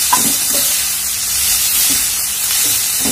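Radish leaves are stirred in a hot pan, giving a loud, continuous sizzling hiss with a few soft scraping strokes of the spatula, close up and without talk.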